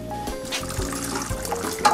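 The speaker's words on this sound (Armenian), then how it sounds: "ջուր ենք լցնում վրան" Water is poured over food in a cooking pot in Areni, Armenia, a short gurgling fill with a splashing trickle that rises near the end, close and fairly clear.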